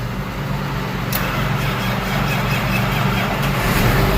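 A farm tractor's engine rumbles loudly and continuously at idle, a deep steady diesel drone close by, with one brief clank partway through.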